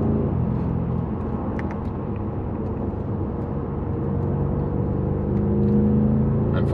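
A BMW M8 Gran Coupe Competition climbs the Stelvio Pass in the Italian Alps, its engine a steady, loud, close rumble and whir that swells slightly near the end, with no voices.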